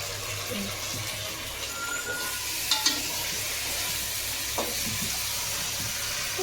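Biryani being stirred in a cooking pot, with a steady low sizzle and scraping throughout and a few brief knocks of the spoon against the pot.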